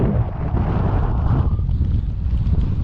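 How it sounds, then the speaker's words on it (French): Cold wind gusting across a mountain pass in the Pyrenees ahead of rain and snow, a steady, loud rush buffeting the microphone with no voices. "Et le vent est froid."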